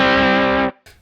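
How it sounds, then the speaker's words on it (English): Short strum of a slightly broken-up, Fender-like electric guitar tone through a Tech 21 SansAmp PSA 2.0, a loud sustained chord that cuts off abruptly, followed by a brief quieter hit. "I was kind of going for almost like a little more broken up Fender sort of sound"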